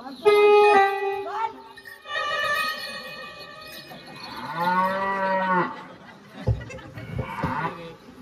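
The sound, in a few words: performer imitating a cow mooing in a folk play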